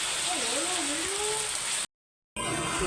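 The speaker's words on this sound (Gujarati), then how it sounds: "અત્યારે જો ફૂલ વરસાદ ચાલુ છે" A steady, dense hiss of the first monsoon rain falling, with a voice murmuring faintly underneath; the sound cuts out abruptly for a moment before the downpour resumes.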